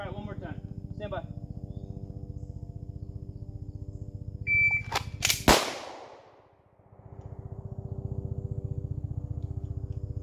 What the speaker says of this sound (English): Draw, rack, and shoot, see if we can get on target.